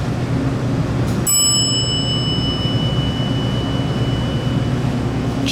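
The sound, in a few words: GAL elevator arrival chimes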